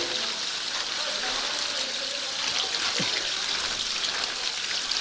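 Water trickles steadily along a steep mountain climbing path, a constant hissing wash of sound heard alone and fairly near.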